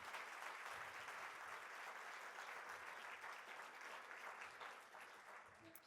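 A conference room full of people applauding at a medical congress, sustained clapping that stays strong and then gradually thins out toward the end.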